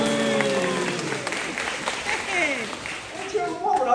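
A live crosstalk show audience bursts into applause, the clapping heard under a performer's talking.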